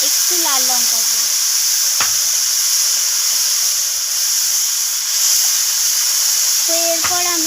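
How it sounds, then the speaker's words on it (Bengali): Grapes fry in a pan with turmeric and chili powder, making a steady loud hiss and sizzle throughout, with a few clinks of a utensil against the pan. "আমি হলুদ আর লঙ্কার গুঁড়োটা দিয়ে আঙুরটাকে আবারও নাড়াচাড়া করে নিচ্ছি"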